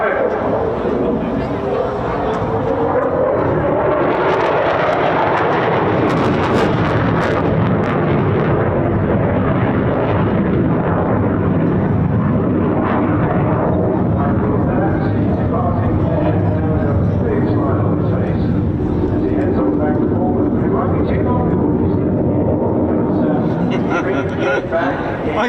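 An RAF Eurofighter Typhoon jet goes to full power in a vertical climb at a seaside air festival. It gives a loud, sustained roar throughout, with an excited commentator speaking over it.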